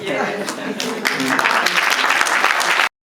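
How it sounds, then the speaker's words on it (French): An audience applauds at a cinema premiere, with steady, dense clapping that swells slightly and cuts off abruptly, and voices mixed in. "Encore une fois, un tonnerre d'applaudissements."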